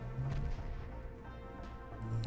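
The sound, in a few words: torpedo hit explosion in Ultimate Admiral: Dreadnoughts video game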